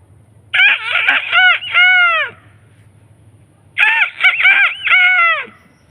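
A man imitates a rooster's crow with his voice, two loud, drawn-out cock-a-doodle-doo calls separated by a pause over a low background hum.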